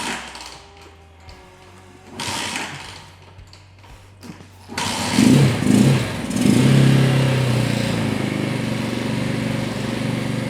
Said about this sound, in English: You can also use the kickstarter from astride the bike,